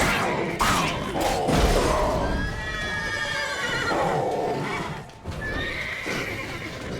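Horses in The Witcher 3 video game neigh and whinny repeatedly with clip-clopping hooves and thuds, loud and close throughout with no talk.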